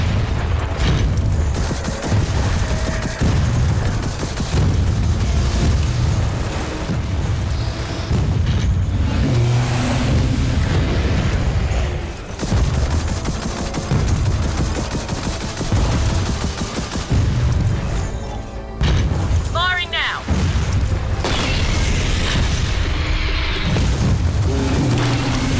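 Airstrike explosions in Gears of War 4, loud repeated booms and rumbling blasts layered with gunfire bursts and roaring engine-like noise, dense and continuous throughout.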